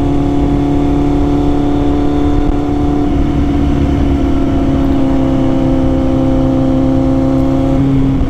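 Kawasaki Z800 engine held at a high, steady idle after a cold start, a loud constant drone with a slight dip in pitch partway through and no speech.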